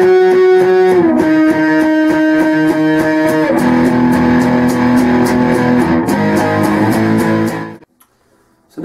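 Distorted electric guitar playing the closing phrase of a song, loud and sustained through effects, chords shifting before settling on a long held final note that rings out and cuts off near the end.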